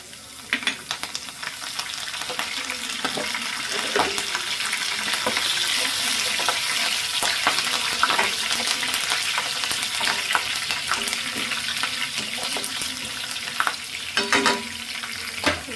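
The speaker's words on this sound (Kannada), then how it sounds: "ಇವಾಗ ಆಯಿಲ್ ಕಾದಿದೆ. ನಾವು ಇದಕ್ಕೆ ಸಾಸಿವೆನ ಆ್ಯಡ್ ಮಾಡ್ಕೊಳ್ಳೋಣ. ಸ್ವಲ್ಪ ಜೀರಿಗೆನೂ ಹಾಕೊಳ್ಳೋಣ. ಸ್ವಲ್ಪ ಕರಿಬೇವು ಹಾಕೊಳ್ಳೋಣ." Mustard seeds, cumin and curry leaves sizzle and crackle steadily in hot oil for a bitter gourd dish, a close, continuous fry with scattered sharp pops and occasional stirring, no talk.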